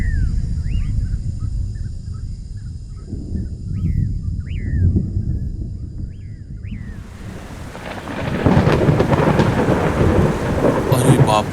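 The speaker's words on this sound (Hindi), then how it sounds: "अरे बाप रे, लगता है बहुत तेज बारिश होने वाली है।" Thunder rolls and heavy rain pours throughout a storm in a forest setting, steady and loud, with rain hiss swelling stronger in the later part and a few bird calls early on; no talk.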